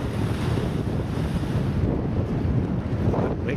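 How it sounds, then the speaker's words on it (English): Strong seaside wind roars steadily beside the jetties, with a constant loud rush and surf-like buffeting on the microphone and no voices. "Well, I suppose they got a bit of wind down here."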